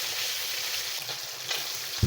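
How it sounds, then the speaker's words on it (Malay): Fish sizzles and crackles steadily in hot oil, a constant bright frying hiss with faint bubbling pops underneath. "Goreng ikan yang selebihnya."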